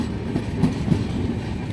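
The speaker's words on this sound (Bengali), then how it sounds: "অমৃত ভারত এক্সপ্রেস আজিমগঞ্জ ঢুকছে।" The Amrit Bharat Express enters Azimganj station with a loud, close, continuous rumble of wagons and a few clattering wheel knocks over the rails.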